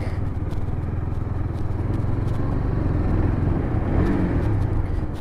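KTM Duke motorcycle engine running steadily while riding on a rough road, a constant low rumbling drone with wind and road noise, close and fairly loud without pauses.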